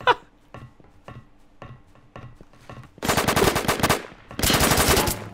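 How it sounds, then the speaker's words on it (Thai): Gunfire from a Roblox copy of Rainbow Six, starting with spaced single shots and then breaking into two loud, dense bursts of rapid automatic fire. "โอ้โหยิงดูเดือดมากเลยครับ"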